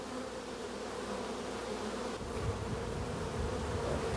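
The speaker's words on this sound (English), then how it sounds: "That's a brand new bee emerging for the first time." Steady close-up buzzing of honeybees on a hive comb as a newly emerged worker chews her way out, a continuous insect drone with no voices.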